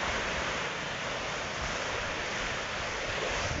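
Ocean waves pound a rocky stretch of shore fitted with a breakwater, making a continuous dense roar of surf and wind buffeting the microphone. It stays loud and steady, and no one speaks.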